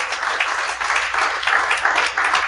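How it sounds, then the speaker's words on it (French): A crowd applauding steadily, with dense, continuous clapping for a couple of seconds. "Bonne main d'applaudissements de Julien Bernatchez"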